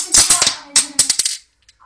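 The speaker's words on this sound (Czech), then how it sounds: "Budou teď vylítávat náboje ze závěru." A black Ekol Tuna 8 mm blank pistol is worked by hand as blank cartridges are ejected from the slide, giving a quick series of sharp metallic clacks and clicks, close and loud, then silence.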